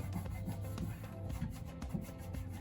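Fingernail scraping duct tape residue off a piece of wooden furniture being prepped for chalk paint, a close, continuous dry rubbing and scratching with small irregular strokes.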